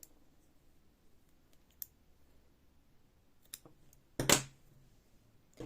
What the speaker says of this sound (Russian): Все, обрезаю.